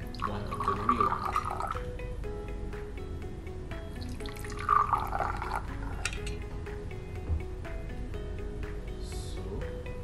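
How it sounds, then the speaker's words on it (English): Water being poured into small containers of real and fake honey for an ant feeding test, soft trickling and dripping close by, with two brief louder pours. "I will add in some water into 1 of the fake honey and 1 of the real honey."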